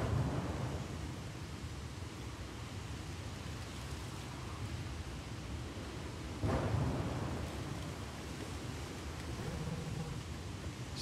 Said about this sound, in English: Storm is really picking up